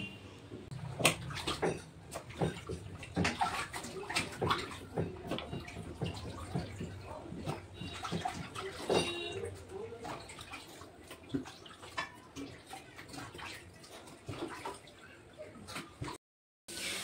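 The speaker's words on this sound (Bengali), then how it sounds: "মাছগুলো আগে ধুয়ে নিই, ধুয়ে তারপর রান্না করব।" Fish are washed under a running tap, with irregular splashing, trickling and dripping water close by, and faint talk in the background for much of the time.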